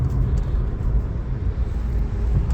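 Aircraft passing over the city of Dnipro produce a continuous low, distant rumble mixed with faint city background noise, steady throughout with no talking.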